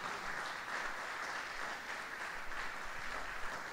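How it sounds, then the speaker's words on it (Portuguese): A church congregation applauds, steady dense clapping from a crowd that fills the room at even loudness throughout. "Você pode aplaudir Jesus por isso?"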